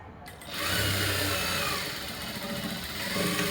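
A sewing machine runs steadily while stitching a blouse lining, a loud continuous whirring motor hum starting after a brief quiet moment and holding to the end.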